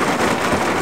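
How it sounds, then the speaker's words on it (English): Steady rain falls close by while a Mk4 VW Golf GTI sits parked outdoors, giving a dense, continuous hiss with no pauses and no voices. "why did it have to rain?"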